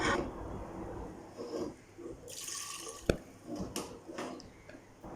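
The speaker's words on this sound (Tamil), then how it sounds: "இப்போ நல்லா தேவையான அளவுக்கு தண்ணி ஊற்றிக்கலாம்" Water splashes and trickles into a cooking pot for moringa soup in uneven bursts, with a sharp clink partway through and a voice talking faintly in the background.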